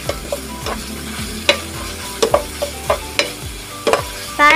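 Corn and onion sauté with ground meat in a hot pan, a steady sizzle broken by repeated clinking and scraping strokes of a stirring utensil, close and fairly loud.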